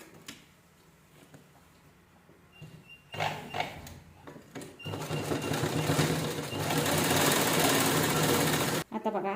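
A sewing machine stitches purse fabric in rapid bursts, first a few light taps and then a loud, continuous mechanical whirr that stops abruptly near the end.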